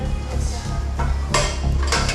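Dishes, pots and pans clatter and clink in a kitchen sink during washing, with a few sharp knocks over running-water hiss, close and moderately loud.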